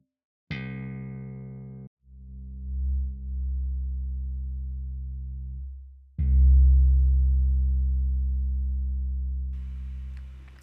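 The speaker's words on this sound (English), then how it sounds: "if we isolate it, we can identify that is kind of the lowest fundamental frequency of" An isolated guitar note from an 8-string guitar sounds as pure, steady tones. One low sustained pitch enters, holds, drops out briefly, then returns stronger and fades slowly. No voice is heard.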